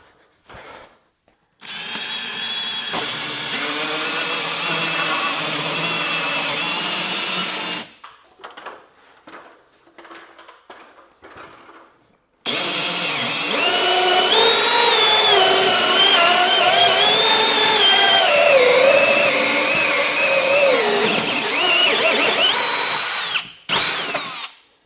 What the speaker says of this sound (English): I'm going to drill a 2 1/4 inch hole here so the line set will go through.